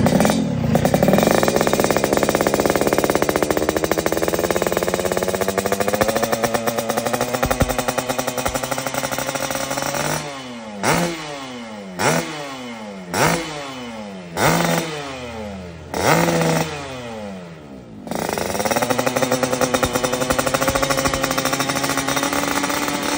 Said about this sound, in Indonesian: Kita gas tipis-tipis dulu ya mas.